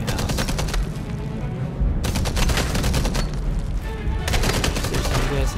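Shotgun fire in the video game Enemy Front, a dense run of loud, sharp blasts that overlap almost continuously, with brief lulls around two and four seconds before the shooting resumes.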